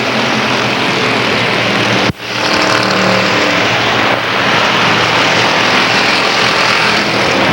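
Spectator stock cars, a Pontiac among them, racing in a heat on an oval track, loud roaring engines passing close by in a continuous rush with a sharp momentary dip as the pack sweeps past.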